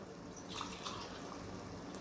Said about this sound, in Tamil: இப்போ பால் ஊற்றுறோம் தேங்காய் பால் ரெண்டாம் பால் ஊற்றுறோம்